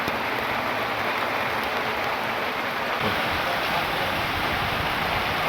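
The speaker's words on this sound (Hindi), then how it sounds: "भाई तेज तेज बारिश हो रही है, रुक ही नहीं रही है।" Heavy rain pours steadily on a forest campsite in Uttarakhand, a dense even hiss that stays constant throughout with no talking.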